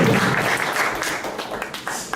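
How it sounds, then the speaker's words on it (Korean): A short burst of audience applause at a startup pitch forum, fairly close and fading over about two seconds with a voice mixed in. "박수 한번 치고 갈까요?"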